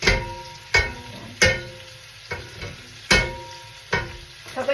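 Vegetables fry in oil in a pan, with a crisp sizzle broken by sharp, loud clanks of a ladle at irregular intervals.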